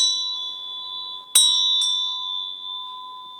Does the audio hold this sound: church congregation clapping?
no